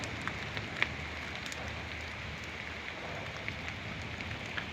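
Steady rain falls in Karak, a dense even hiss of drops on surfaces with occasional louder individual drips, no voices.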